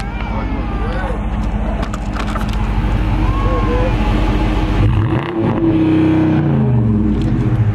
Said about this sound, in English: One more rev.